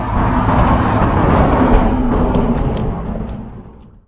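A vehicle drives along while towing a Heyday WT2DC boat toward the lake, giving a continuous broad road rumble and engine drone that holds steady, then fades out toward the end.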